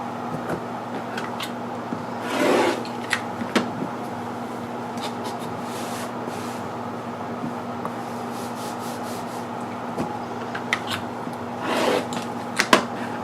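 A metal-edged quilting trimmer cuts away excess batting and backing, making soft rubbing and rasping strokes in two brief louder bursts over a steady background hum, with faint ticks in between.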